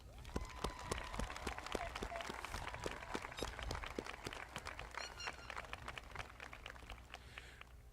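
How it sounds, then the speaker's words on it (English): A large high school graduation crowd applauds at the ceremony, a faint, distant wash of continuous clapping with scattered louder claps and some voices mixed in. "let's give ourselves a huge round of applause"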